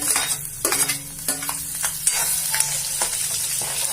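Crushed garlic sizzles steadily in hot oil in a pan for a Khandeshi bharit, with intermittent scraping and stirring over a constant frying hiss.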